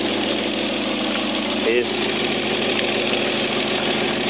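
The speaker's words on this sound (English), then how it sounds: "I've heated the engine up so that it's warm" A warmed-up 2.0 petrol engine in a Ford Freda / Mazda Bongo idles with a steady, even drone. A person talks close by over it.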